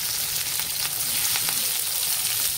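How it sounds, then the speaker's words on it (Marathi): A Marathi tempering (phodni) for dill-greens curry (shepu bhaji) sizzles hard in a hot pan, a dense, continuous crackling hiss up close with light pops, and no voices. "हे बघा, छान फोडणी झालेली आहे।"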